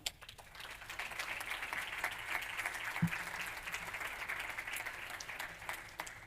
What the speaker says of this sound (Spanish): También lo recibimos con un fuerte aplauso.